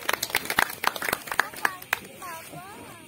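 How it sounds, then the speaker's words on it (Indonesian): A handful of scattered hand claps from a small audience at a year-end stage poetry reading; the sparse, uneven claps fade within two seconds and a voice speaks over the end. "Kita beri tepuk tangan."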